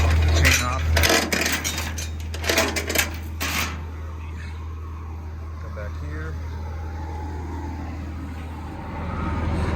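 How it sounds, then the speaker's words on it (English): A chain is pulled off a 53-foot garbage trailer, rattling and clanking close by in a quick cluster of metallic hits over a steady low truck-engine hum, then the hum carries on alone. "Gotta pull this chain off."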